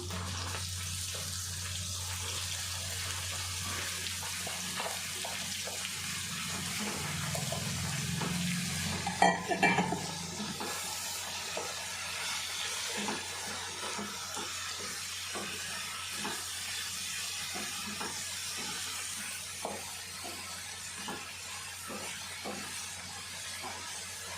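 Ridge gourd and tomato pieces stir-frying in a pan with onion and green chilli, a steady close sizzle and hiss running throughout, with a brief louder burst of clatter and splatter partway through.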